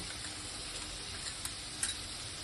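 Spice paste frying in a pan, a steady sizzle with a couple of faint stirring taps.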